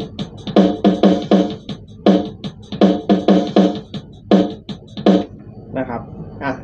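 Rock or metal drum rhythm pattern from a VOX AC1 Rhythm amp's built-in rhythm section: steady, loud repeating beat of punchy hits running the whole time, fading into a softer tail at the end.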